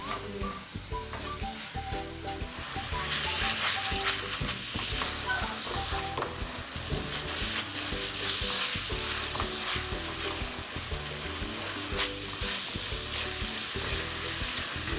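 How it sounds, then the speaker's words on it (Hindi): Onions soften in hot oil in a pan, a steady close sizzle and crackle with occasional stirring scrapes running through the whole stretch, loud and continuous, no voices. "सबसे पहले हम प्याज फ्राई करेंगे"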